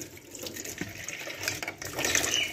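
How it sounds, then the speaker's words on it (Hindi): Tap water runs steadily into a kitchen sink while utensils are rinsed during iftar cooking, a close, continuous splashing hiss with small shifts in flow and no talking. "इसको धो लेती हूँ फिर से जल्दी पानी"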